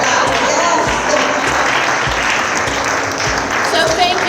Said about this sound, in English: A big applause for these amazing panelists